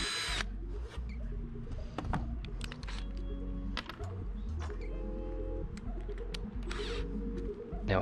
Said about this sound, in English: Drill another small hole through that you'll put your swivel point through.